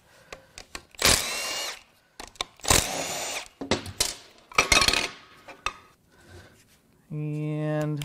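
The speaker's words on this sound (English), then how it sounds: "we're just gonna start zipping all the bolts out, like normal" Power tool zipping bolts out of a wrecked Honda Accord J35 V6 cylinder head, with several loud close bursts of whirring and rattling, clinks of metal between them, and a long rising whine at the end.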